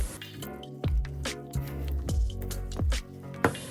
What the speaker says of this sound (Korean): 잘게 자른 호두와 초콜릿 150g을 반죽에 넣고 스파츌라로 섞어줄 거예요